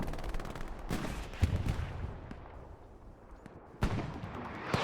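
Artillery and gunfire in the World War II shooter Hell Let Loose, repeated booming impacts and rattling shots at a moderate distance, with a heavy blast near the start and another toward the end, no talk.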